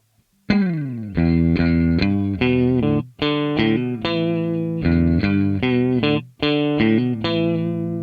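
An electric guitar played clean through a WEM Dominator amp rings out a series of sustained chords, loud and close, each struck separately with brief gaps between them.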